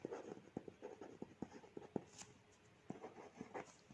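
Chalk or marker writing a math definition on a classroom board, a rapid series of short tapping strokes and scratches in irregular bursts, close and fairly quiet with a brief pause midway.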